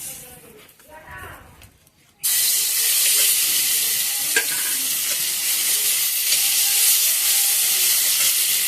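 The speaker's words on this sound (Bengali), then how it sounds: "দিয়ে দেবো এখান থেকে রসুন ফোড়ন" Garlic hits hot oil as a tempering for a dried-fish and gourd curry, bursting into a loud, steady sizzle that fills the rest of the clip after a quieter stretch of kitchen noise.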